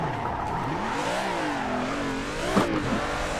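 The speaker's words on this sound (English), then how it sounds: "see if we can spin the car around real quick" Car engine revving and sweeping up and down in pitch as the car spins around in Assetto Corsa, a steady near drone with no talk.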